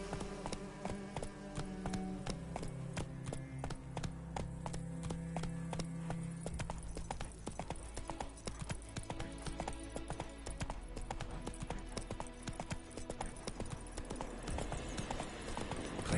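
In The Witcher video game, the horse Roach gallops with quick, rhythmic hoofbeats drumming continuously and fairly close, with faint buzzing insects in the background.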